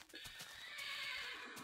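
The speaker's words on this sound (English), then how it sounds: "Horses, which you can tame, which is very nice." A tamed horse whinnies in Minecraft, one long, bright neigh with short hoof clops at the start, heard alone at low volume.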